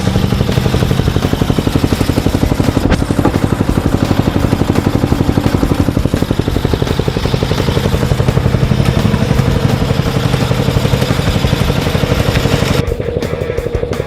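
A racing lawn tractor's engine fires up and runs hard, a loud, close, rapid-pulsing clatter that holds steady for several seconds before dropping and roughening near the end.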